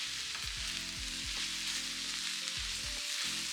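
Greens and cabbage hit a hot pan with a loud, steady sizzle and frying crackle for the whole stretch, with a few stirring scrapes and clicks along the way; no one speaks.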